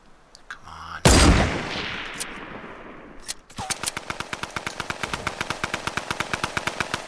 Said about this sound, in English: Let's see where those bullets are coming from